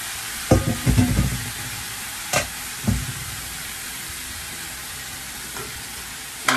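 Garlic sizzles in butter in a pan, a steady frying hiss broken by several sharp bursts of stirring and scraping, close and clear with no talk.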